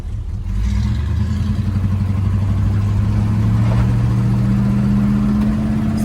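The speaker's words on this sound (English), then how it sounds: "Motor definitely sounds strong. Obviously 455, I kind of expect that." A 1968 Buick Electra with a 455 V8 engine runs steadily while driving, a loud continuous low rumble with a droning tone that holds level throughout, with no talk over it.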